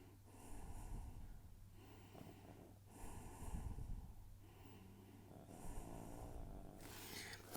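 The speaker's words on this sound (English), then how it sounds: "And there's the dog snoring." Quiet, rhythmic snoring from a sleeping dog, with snorting breaths repeating about every two seconds, close by and alone.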